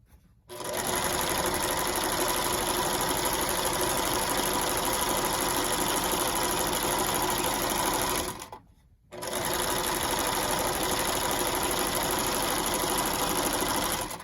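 A worn, rickety sewing machine rolls a quick hem in two long, loud, steady runs of rapid stitching, separated by a short pause.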